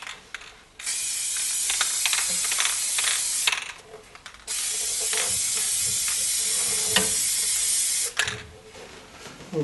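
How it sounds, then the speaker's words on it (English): Bursts of aerosol spray paint hissing in a garage while mandolin parts are coated: three long steady sprays, separated by short pauses with faint clicks and handling noise. "Here's my setup for doing my spray painting."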